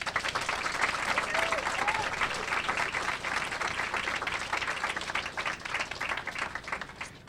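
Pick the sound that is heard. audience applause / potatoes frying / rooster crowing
audience applause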